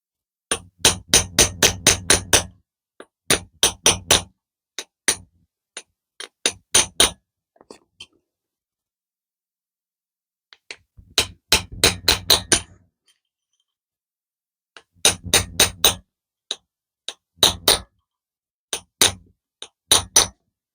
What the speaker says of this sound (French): Mon petit marteau.